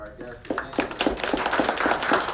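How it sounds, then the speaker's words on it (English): An audience at a comics shop panel claps for the guests, distinct claps building into a moderate round of applause after a voice trails off at the start. "let's give a round of applause to our"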